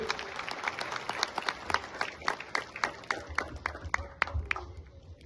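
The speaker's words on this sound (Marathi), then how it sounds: "जोरदार टाळ्या वाजूयात" Sustained audience applause at a birthday celebration in Satara, many hands clapping densely and steadily at moderate loudness, with faint crowd murmur underneath and no clear speech.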